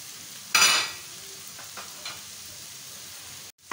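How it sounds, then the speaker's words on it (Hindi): Vegetables for chicken noodles sauté in a hot pan with a loud burst of sizzling, then a softer steady fry with light stirring scrapes until a sudden stop near the end. "सब्जियां हमारी सौते हो गई हैं, साथ ही नूडल्स डाल दें।"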